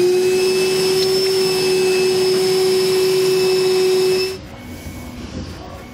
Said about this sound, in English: we'll come back with our vacuum, clean everything up